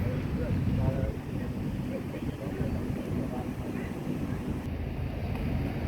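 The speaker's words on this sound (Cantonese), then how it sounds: "新渡輪啊！" A new ferry at the Kowloon City pier in Hong Kong, heard as a steady low engine and water rumble with wind buffeting the microphone, continuous and fairly close throughout.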